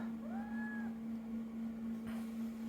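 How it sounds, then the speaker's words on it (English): A cat named Zorra gives one short rising chirp-meow, fairly clear against a steady low hum, with a faint rustle afterward. "Zorra always makes sure to chirp and meow even while Abby's confronting her"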